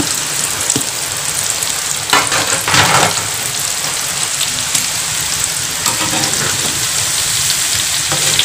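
Pandan-flavoured lumpia wrapper snacks fry in reused, slightly foamy oil left over from cooking martabak telur, giving a loud, steady, dense sizzle and crackle that runs throughout with no talking.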